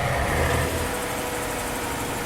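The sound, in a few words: car engine braking on highway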